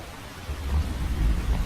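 Rain with thunder in the video game Metal Gear Solid 3: a steady wash of heavy rainfall with deep rolling thunder rumbles swelling in the second half, alone without talk.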